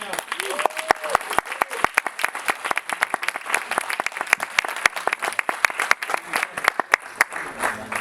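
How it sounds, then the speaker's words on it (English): Sustained applause from a film festival Q&A audience at L'HIFF Barcelona 2025, with dense, steady clapping for about eight seconds and a voice briefly heard near the start. "So, round of applause for Daniel."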